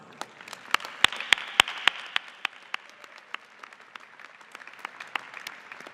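Audience applause at a 2018 Heinz College diploma and awards ceremony after graduates' names are read, a thin patter of individual claps with a few sharp, loud nearby claps standing out, continuing steadily then thinning.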